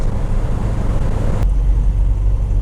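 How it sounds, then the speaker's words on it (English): Steady roar of an MGB cruising at speed on a motorway with heavy wind rush, loud and continuous, the tone shifting abruptly midway. "this car is pretty loud on a motorway"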